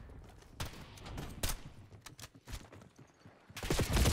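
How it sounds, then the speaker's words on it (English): Gunfire in the video game Black Ops 6 from an LR bolt-action sniper rifle: several sharp shots and impacts land irregularly over a few seconds, ending in a louder burst, with no talking. "Some of these shots hit and they just don't kill them."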